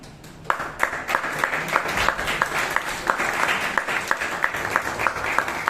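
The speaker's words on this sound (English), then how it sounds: "Let's have a big round of applause not only to the table topic master, but all the people who came up here and spoke on table topics." Audience applause at a Toastmasters club meeting in Bangalore, honouring the table topics master and speakers: steady, dense clapping from a room full of people, with a few sharper individual claps standing out rhythmically throughout.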